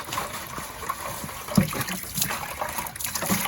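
Freshly pulled daikon radishes are rinsed under water, a close, continuous trickle and splash with small knocks as the roots are handled.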